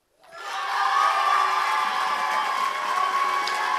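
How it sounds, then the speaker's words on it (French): An audience at a slam poetry competition breaks into applause and cheering for a team, the crowd noise swelling quickly and holding as a steady, fairly loud roar of clapping and shouts. "On l'applaudit bien fort."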